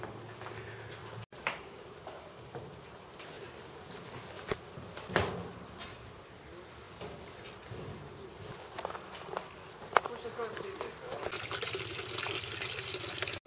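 Clear water flowing and splashing nearby at Ramat HaNadiv on a bicycle trip, with scattered footsteps and clatters, then a brighter rush of running water toward the end.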